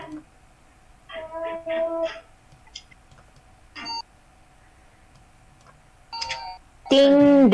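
Short electronic chime tones ring out in separate bursts across several seconds, close and moderately loud amid quiet gaps, followed by a louder warbling tone at the end.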